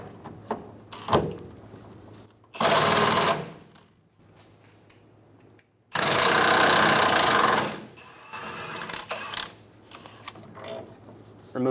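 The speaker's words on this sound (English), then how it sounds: "Using a 15mm socket, we're going to remove the bolt for the carrier." A ratchet with a 15mm socket loosens the spare tire carrier bolt on a 2014-2018 Chevrolet Silverado, giving two close, loud bursts of rapid clicking with short quiet gaps between them.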